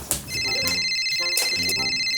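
A phone rings with a call from Baburao, an electronic ringtone repeating in two bursts over a quiet room.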